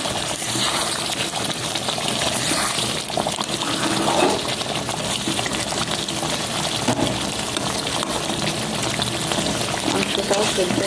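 Chicken curry bubbling at a boil in a pot over high heat, with a steady, dense simmering hiss and fizz that holds evenly from start to finish.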